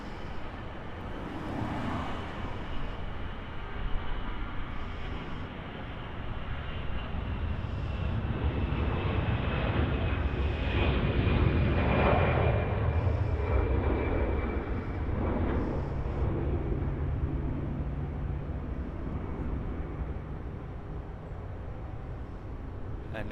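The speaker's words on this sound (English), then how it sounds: "Our next departure here is going to be Delta Airlines flight 1194" A Delta Airlines jet departing Los Angeles airport roars from a distance as a steady, broad engine rumble that swells and fades slowly over the whole stretch.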